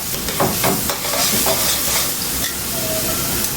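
Garlic sizzles and crackles steadily in green olive oil in a pan, a close, continuous frying hiss with scattered pops and the occasional scrape of stirring.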